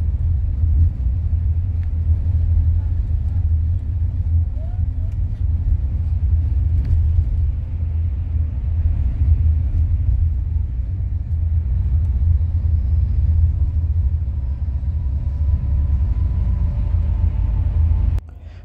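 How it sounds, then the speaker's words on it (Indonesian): Steady low rumble inside a bus's executive-class cabin cruising on a highway, muffled road and engine noise holding evenly throughout with no voices. "Ini kalian nilai sendiri bagaimana kedapnya bis ini ya."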